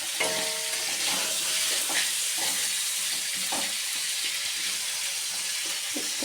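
Aloo, drumstick (sajne danta) and posto fry in a pan, a continuous close sizzle with small stirring clicks and scrapes throughout, no voices.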